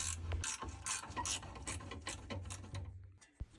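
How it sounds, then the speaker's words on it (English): A 13mm ratchet spanner undoing the nut on top of the heat exchanger of a Worcester Bosch 30si combi boiler, rapid clicking ratchet strokes in quick repeated bursts, close and clear, ending with a sharp metallic clack. "13mm spanner for the nut on top of the heat exchanger."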